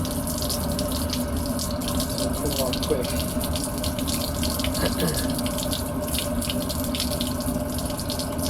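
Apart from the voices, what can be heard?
water draining from travel trailer plumbing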